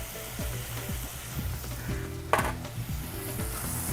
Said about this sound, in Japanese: ちょっともう全体的に焼き色がつくぐらいまで炒めていってください